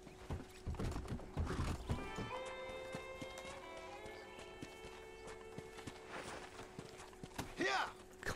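Horse hooves clop irregularly in the video game Red Dead Redemption amid a low hum, with scattered thuds and a tonal chime in the middle; a short whinny-like burst near the end.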